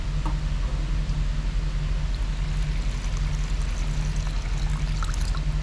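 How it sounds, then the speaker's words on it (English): Omni reducer poured into a measuring cup, a steady liquid stream running continuously and fairly loud, with no speech. "We're going to pour in 4 more ounces to make a total of 8 ounces"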